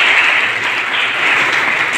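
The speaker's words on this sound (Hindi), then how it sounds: "आज हमारे बीच में एक बार सर के लिए तालियां।" Short stretch of dense audience clapping for a guest speaker at a nursing college meditation session, loud and steady throughout.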